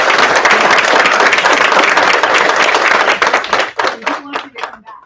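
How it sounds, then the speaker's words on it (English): An audience at a school board meeting breaks into loud, dense applause that holds steady for about three seconds, then thins to a few scattered claps. "let's give a big hand of applause"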